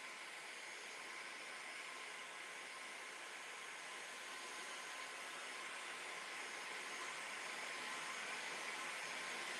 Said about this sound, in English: So I'm going to warm that up again. I'm using my heat gun.